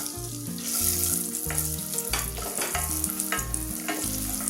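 Cashews and raisins fry in a pan with a continuous bright sizzle, partly masked by loud rhythmic background music with stepping bass notes.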